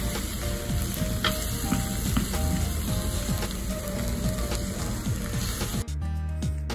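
Cheese stone-pot bibimbap sizzles and crackles steadily in a hot stone bowl at a roadside restaurant in Nara, with a constant loud frying hiss and occasional utensil clicks as it is stirred.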